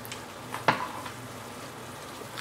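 Garlic and ginger fry in sesame oil in a pan with a steady low sizzle and one sharper clatter near the start, then a quieter hiss continuing alone.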